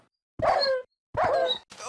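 Dogs being killed by cactus in Minecraft, three short, loud yelping cries in quick succession, each cut off abruptly with silence between.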